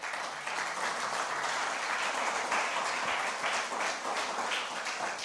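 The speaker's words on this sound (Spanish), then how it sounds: "Denle un aplauso al Señor" Church congregation applauding, a dense steady roar of many hands clapping together, sustained evenly for about five seconds with no pause.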